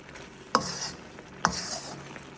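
Hamburger stroganoff cooking in a pan on a stove, with a steady low sizzle broken by two sharp clanks of a utensil scraping and stirring the pan, close and fairly loud, with no talking.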